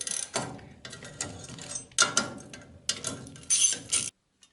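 Bolts loosened on a Citroën Traction front axle, bursts of rapid ratcheting clicks from a wrench in several runs with short pauses between, close and fairly loud.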